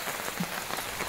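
Heavy rain driven by wind from Cyclone Dana beats down outdoors, a dense close hiss of drops on surfaces with a soft gusty rumble underneath, no speech.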